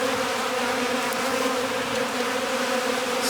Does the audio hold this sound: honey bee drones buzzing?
yes